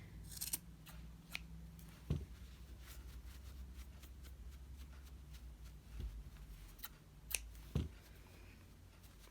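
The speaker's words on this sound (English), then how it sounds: "I just trim around a little bit here and there until it looks about where I like it to be" Scissors trimming a tightly wrapped yarn pom-pom, with faint sparse snips spread across the stretch, a few sharper cuts standing out over quiet low background hum, no talking.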